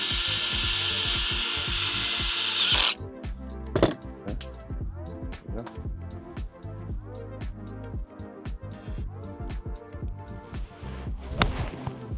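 A Cobra adjustable golf club's hosel is reset with a ratcheting wrench, giving a close series of quick sharp clicks and ticks in uneven bursts after a brief burst of background noise.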